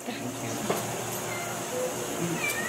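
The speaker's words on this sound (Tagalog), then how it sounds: "Ang dami pusa na dito, mga stray lang yun." Stray cat meowing in a Philippine setting, a couple of brief, fairly faint mews over a steady background hum.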